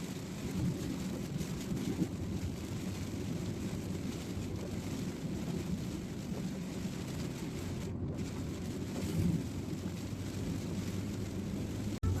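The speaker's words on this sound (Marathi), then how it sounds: "बघू शकता मोठ्या प्रमाणात पाऊस चालू झालेला आहे." Heavy rain during a car journey on a pilgrimage route in Uttarakhand drums steadily with a low, rumbling wash that could be thunder or wind, constant and enveloping throughout, with no voices.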